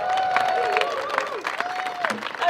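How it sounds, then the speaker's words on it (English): Crowd applause with cheering and whistling at an outdoor Hands Off The EPA protest in Ann Arbor, Michigan, a dense continuous ovation from a nearby crowd lasting the whole stretch. "Give yourself a round of applause for that."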